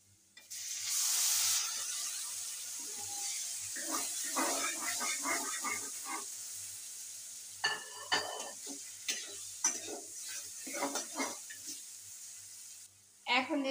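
Mashed green papaya stirred into a hot pan with turmeric for kacha pepe vorta, giving a soft sizzle and repeated scraping and stirring strokes, with a voice talking over parts of it.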